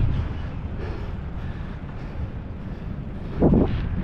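Steady headwind rumbles and buffets the microphone throughout while cycling uphill on a cycle track, with a brief louder gust near the end.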